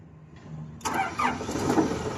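A Komatsu forklift with a fault that lets it start in gear: after a quiet moment the engine cranks and catches, then settles into a loud, close, rough running sound.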